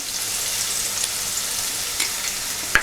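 Chicken curry frying in a pan gives a steady, loud, hissing sizzle throughout, with a sharp scrape of the stirring utensil near the end.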